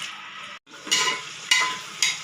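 Chicken curry with onions being stirred in a pan, three scraping, sizzling strokes in a slow rhythm after a brief silent gap, close and fairly loud.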